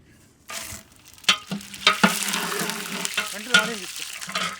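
Ghee, oil and spices frying in a pan for white chicken biryani, starting after a short silence and then crackling and sizzling close up with sharp pops and stirring clatter.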